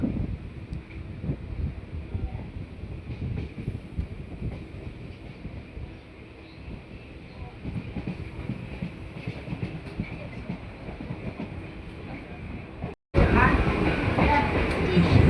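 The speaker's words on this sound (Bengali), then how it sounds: "আমাদের ট্রেন এসে পৌঁছালো বিবাদীবাগ স্টেশন।" A suburban train on the Majerhat to Barasat line runs along its tracks, a steady close rumble with rail clatter and wind buffeting throughout, briefly cutting out near the end before resuming louder.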